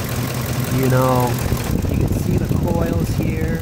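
A Ford 5.4 three-valve V8 idles with a lifter or cam phaser tick, a rapid steady ticking over a mid-pitched drone heard up close while someone talks over it.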